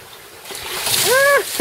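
Fresh water splashes over a person during an equator-crossing baptism ceremony at sea, a brief broad rush ending in a short vocal exclamation.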